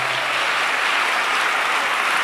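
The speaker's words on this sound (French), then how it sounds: "acclamons pour ce plateau" Sustained applause from a church audience, a steady dense wash of clapping that fills the whole moment without pause, loud and even throughout.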